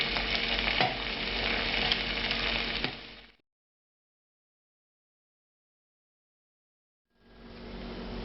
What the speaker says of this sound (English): Now the pasta's had a few seconds in that butter. I'm going to toss it around a little bit here.